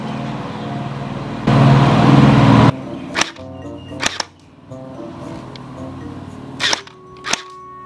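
A P90 gel blaster rifle fires several sharp single shots, each a loud close crack spaced irregularly, after a burst of broadband noise near the start.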